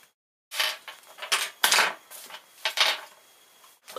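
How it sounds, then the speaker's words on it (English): Plastic RPM body mount parts being cut from the parts tree, several sharp close snips and clicks in an irregular sequence with short pauses between them, no voices. "Go ahead and cut the three parts off of the tree."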